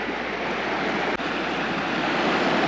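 Steady, broadband rushing of a mountain river on the Mt. Bierstadt hiking trail, a continuous wash of flowing water close by with no talk over it.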